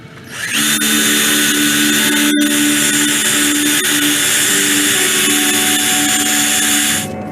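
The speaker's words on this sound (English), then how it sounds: "you want to drill only the first like inch and a half" A power drill whines loudly and steadily at close range, drilling a tap hole about an inch and a half into a tree, running continuously for several seconds before spinning down.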